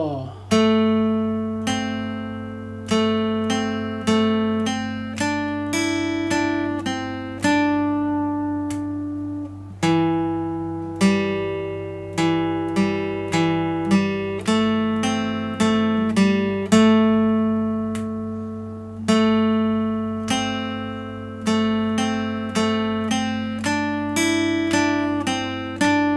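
Guitar picks a simple solo intro melody to a song, at a slightly quicker pace, with steady plucked notes ringing over a sustained low open-string drone, played close and alone without speech.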